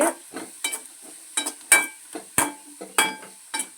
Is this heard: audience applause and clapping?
no